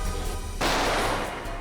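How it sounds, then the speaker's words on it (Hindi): A single gunshot, an abrupt, loud broadband crack that bursts in after a low hum and trails off into a sustained noisy decay, with no talking. "सर हम लोग गोली की आवाज सुनकर बहुत डर गए थे"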